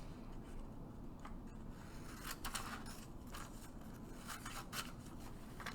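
Scissors cut through paper in several quick snipping bursts, close and faint, against a quiet background with no talk.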